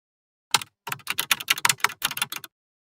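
Fingers type a folder name on a computer keyboard in a quick, uneven run of close, crisp key clicks lasting about two seconds, with no voices.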